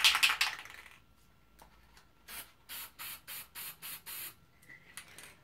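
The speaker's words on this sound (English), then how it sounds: "I'm going to spray it first into the paper cup." A loud spray-paint burst opens, then a quick series of short, regular aerosol puffs into a paper cup, about seven in a row, followed by quiet.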